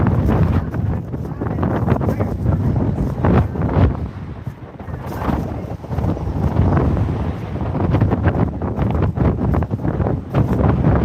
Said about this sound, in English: And the wind's actually picking up.